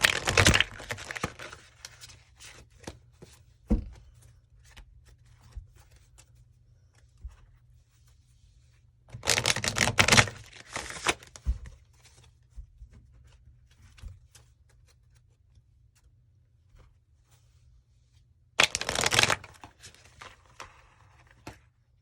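Tarot cards drawn and shuffled from a deck come through in three distinct bursts of crisp papery rustling and snapping, each a second or two long, with near silence between them.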